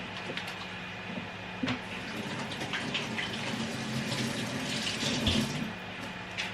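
Water runs steadily from a kitchen tap while hands are washed during home cooking, a continuous splashing hiss with a few brief clatters, fairly close and moderately loud, with no talk over it.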